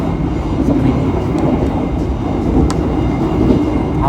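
A new-generation economy class passenger train runs steadily, its deep continuous rumble filling the space with faint rattles and a brief squeak, heard from inside the carriage.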